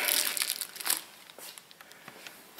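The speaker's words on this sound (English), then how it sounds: "So I just like to put my little plastic bag on here" Close plastic bag crinkling and crumpling on a snowblower during oil maintenance, with a dense burst at first and then scattered softer rustles.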